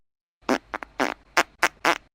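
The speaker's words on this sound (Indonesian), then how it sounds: "kentut jeda-jeda yang hanya terjadi saat diare" Intermittent fart sound effect: six short bursts of flatulence come in an uneven, stop-start rhythm over about two seconds, each loud and close, with brief silences between them and no other sound.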